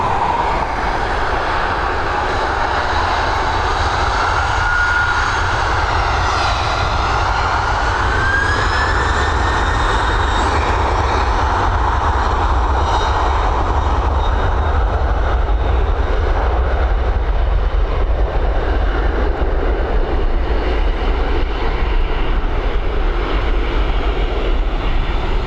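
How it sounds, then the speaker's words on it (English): A Boeing 767 spools up its jet engines for departure at Dublin Airport, a loud, continuous roar with a rising whine heard from a steady distance, filling the whole stretch without any talk. "enjoy the sound of this Boeing 767 as it begins to spool up, ready for its departure out of Dublin International."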